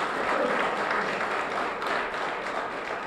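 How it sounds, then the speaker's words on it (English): Audience applause at a police department's annual community meeting, honoring two high school seniors; a short, even wash of clapping from a seated crowd, moderately loud and steady. "we need to give a round of applause to Trey and Deshaun"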